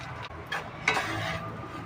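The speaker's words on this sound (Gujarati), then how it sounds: "ઘીને ગરમ થઈ ગયું છે તો આપણે લોટ શેકી લઈશું" Rice flour roasting in ghee over a low flame in a pan, a soft close sizzle with a few scraping stir strokes and light ticks, quiet and without talk.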